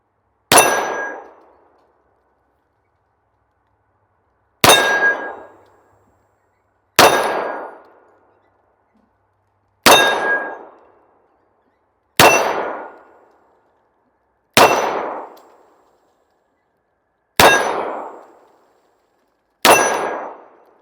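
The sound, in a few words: 45 ACP bullets hitting steel targets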